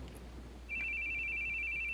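A phone rings in the horror video game The Boogie Man, a steady electronic trill that starts partway in and continues evenly over quiet background hum.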